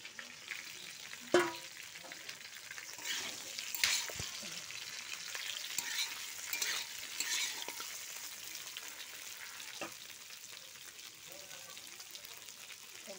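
Fried fish from the day before reheats in a pan with a steady, fairly quiet sizzle. Occasional knocks and scrapes of stirring break through the sizzle.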